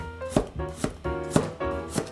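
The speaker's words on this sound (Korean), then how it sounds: "이렇게 채 썰듯이 썰어서 가르려고 해" A knife chops steadily through radish on a cutting board, about five crisp, evenly spaced strokes, each a sharp thud with a bright edge, close and loud with no talking.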